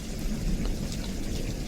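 Heavy spring thunderstorm rain pours steadily with a low rumble of thunder underneath, a dense, close wash of sound with no talk.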